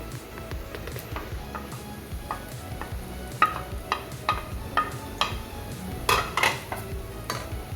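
Chopped onion tossed in with ginger and garlic sizzles in a pan for fish molee, with a spoon stirring and clinking against the metal in repeated sharp taps over a steady frying hiss, no voices.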